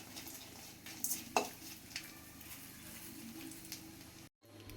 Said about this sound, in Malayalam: രണ്ട് കൊണ്ടാട്ടമുളകും കൂടി വറുത്തെടുക്കാം കേട്ടോ